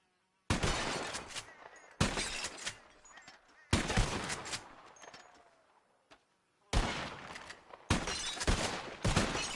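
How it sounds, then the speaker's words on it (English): Revolver gunshots shattering bottles in a shooting contest in Red Dead Redemption 2, five sharp loud cracks spaced a second or two apart, each followed by a decaying tail of breaking glass, with a short pause between the third and fourth. "Whoever shoots more of these bottles wins."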